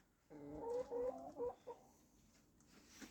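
Several chickens cluck in quick, overlapping bursts for a couple of seconds, fairly close, then fade to quiet outdoor background.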